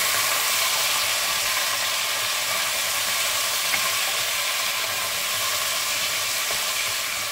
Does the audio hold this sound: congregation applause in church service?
no